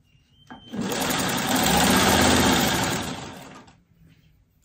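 Sewing machine stitching fabric scraps together for a diamond crumb quilt block, one continuous close whirring run of about three seconds that rises, holds steady and tapers off, with quiet moments before and after.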